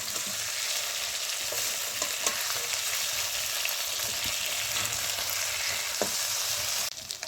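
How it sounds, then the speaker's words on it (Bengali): Fish sizzling in hot oil in a pan while it is turned over, a loud continuous frying crackle with a few scraping stirs and a clatter near the end. "এই যে মাছটা ভাজা হয়ে গেছে এক পিঠটা, আমি ওই পিঠটা এখন মাছটা ঘুরাবো এইভাবে"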